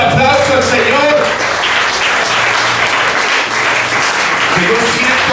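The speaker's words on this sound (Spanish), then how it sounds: "Denle un aplauso al Señor." A church congregation breaks into loud, sustained applause during a Spanish-language service, clapping mixed with cheers and voices throughout.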